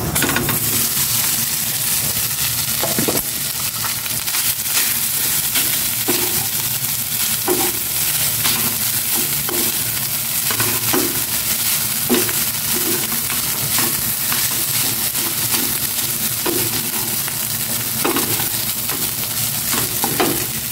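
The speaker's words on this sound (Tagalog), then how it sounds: "Lagay ko na itong kanin." Rice is stir-fried into garlic fried rice in a hot pan, with a constant loud sizzle and regular spatula scrapes and taps repeating every second or so.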